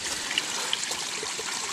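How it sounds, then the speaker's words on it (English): A small stream in a koi pond trickles and splashes steadily back into the water, a light, continuous babble heard close by with no talking. "my stream returns to the pond there"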